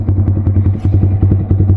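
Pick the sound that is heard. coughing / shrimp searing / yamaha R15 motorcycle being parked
yamaha R15 motorcycle being parked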